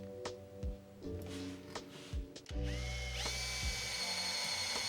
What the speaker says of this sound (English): I am using a drill press here to get repeated depth cuts